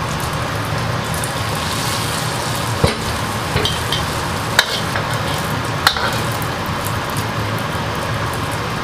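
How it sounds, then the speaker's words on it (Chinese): Eggs fry in very hot oil in a wok for chive and egg stir-fry, a loud, continuous crackling sizzle with a few sharp pops and clanks standing out. "我们油温一定要高，这样鸡蛋放下去就容易成型。"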